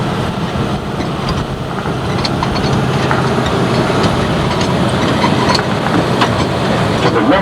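A tourist train runs at Calico, California, a former mining town, with a steady loud rumble and faint rhythmic rail clatter throughout.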